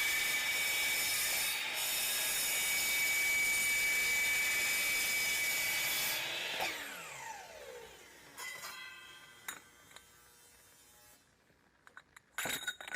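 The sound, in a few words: blade cutting aluminum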